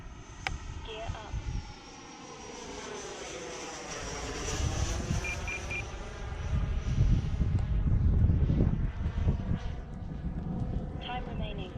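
A repaired remote-control EDF jet flying overhead: a steady ducted-fan whine that rises and sweeps as it passes, growing louder toward the middle with a rumbling edge, while voices are heard nearby.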